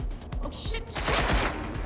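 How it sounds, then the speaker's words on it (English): Automatic gunfire in the Watch Dogs: Legion video game rattles in a rapid, loud burst lasting under two seconds, with no clear talk over it. "They're shooting!"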